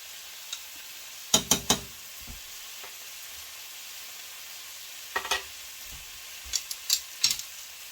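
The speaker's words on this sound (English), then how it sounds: "You need a flat spoon to make sure I'm getting my beef nicely charred." Beef fries in a pan for Guyanese cook-up rice while a flat spoon stirs it, giving a faint steady sizzle broken by several sharp scraping, clattering strokes that arrive in short clusters.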